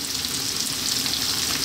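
Sliced onion hits hot oil with garlic and ginger in a wok for a Chinese fish stir fry, a loud, steady, close sizzle with no talking.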